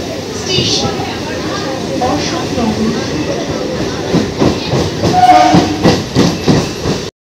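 A train rumbles and clatters at Barasat railway station in West Bengal under close, continuous talking, with a brief horn-like tone near the end before the sound cuts off.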